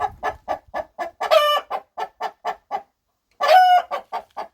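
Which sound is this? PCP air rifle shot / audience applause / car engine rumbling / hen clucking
hen clucking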